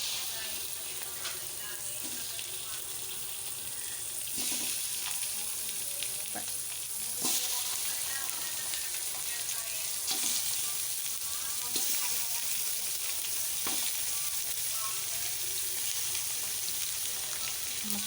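Chicken and onions fry in a pan for a chicken curry, a steady crackling sizzle with occasional stirring scrapes and pops, close and continuous throughout.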